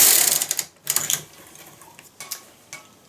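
A knitting machine carriage is pushed across the needle bed to knit off a row, making a series of mechanical clacking and whirring bursts with short pauses between them, close and fairly loud.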